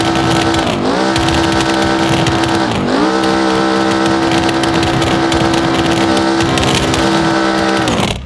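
Massive engine of a roll-cage car in BeamNG.drive, a loud, harsh, sustained roar with strong harmonic whine that dips twice as revs drop and climb back, continuous throughout without talk.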